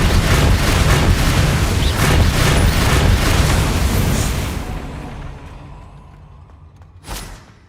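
A loud magical blast from the Expelliarmus spell in Hogwarts Legacy, a heavy booming roar that holds for several seconds, then fades into a quieter tail and ends with one short, sharp hit.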